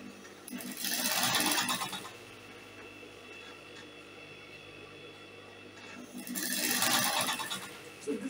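A sewing machine stitches crinoline onto a dress hem in two steady, buzzing bursts separated by a quieter pause, close and moderately loud.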